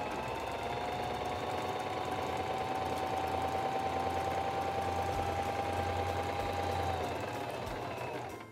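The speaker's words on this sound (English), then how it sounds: "Sew forward a few stitches, press and hold the reverse lever to sew backwards a few stitches, release the reverse lever and continue down your seam" A SINGER 2273 Esteem II sewing machine stitches steadily through fabric down a seam, its motor whirring in one continuous, close run that tapers off at the end.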